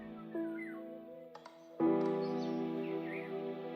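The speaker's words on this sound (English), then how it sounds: "And birds. There's a lot of birds." Birds chirp and tweet in a Minecraft forest, with short high calls scattered over a steady background of ambient game music and tones; a louder swell of sound enters midway.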